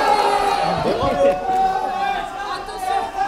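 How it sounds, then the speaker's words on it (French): A live audience at a French Super Smash Bros. Ultimate championship match cheers and chatters, a loud, continuous crowd roar swelling around the middle and staying dense throughout. "Sous les acclamations incroyables du public"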